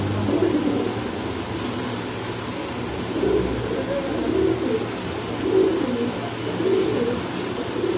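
Pigeons coo in a low, repeated rhythm at a pigeon dealer's shop in Kaptan Bazar market, the soft throaty calls pulsing every second or so over a steady, busy background hum.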